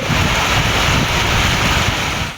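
Heavy rain lashing down with strong gusty wind in Tirunelveli district, Tamil Nadu, a loud unbroken roar of downpour and wind noise filling the whole stretch with no voices.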